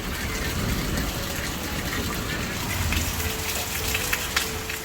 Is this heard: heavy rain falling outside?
yes